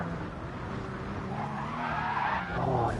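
Race car tires skid and squeal under late braking in the Gran Turismo video game on PS4, a loud, sustained screech rising toward the end over engine noise.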